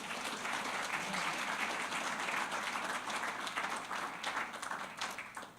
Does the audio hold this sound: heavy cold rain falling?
no